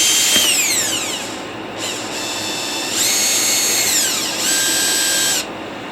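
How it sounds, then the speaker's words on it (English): A power drill whirs in several close, loud bursts while driving screws into silicone, pitch rising and falling as it spins up and slows, with short pauses between runs. "simply drill them into that silicone"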